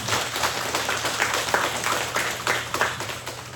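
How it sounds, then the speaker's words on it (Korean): A church congregation at a Sunday service claps together in a steady, close patter of consolation applause that lasts throughout without a break. "위로의 박수 한번 해주시면 감사하겠습니다"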